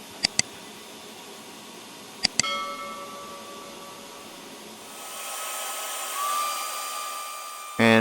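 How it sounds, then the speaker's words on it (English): A router table fitted with a roughly half-inch round nose bit carves a groove into a wooden blanket hanger. A few sharp knocks come first, then a steady motor whine rises into a loud, hissing cutting roar that ends abruptly. "I've set up the router table with a round nose router bit, which I believe is 1/2 inch, and that is going to be used to put a groove or carve a groove"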